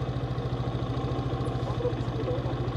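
A motorcycle idles with a steady, rapid low thumping, close and even throughout while the bike is parked on a trip to the Bhaleshwor temple in Chandragiri.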